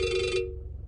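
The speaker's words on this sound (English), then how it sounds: "Now the phone's ringing." A telephone rings once with a brief electronic trill that cuts off abruptly, leaving a low background hum; fairly quiet and close, with no talking.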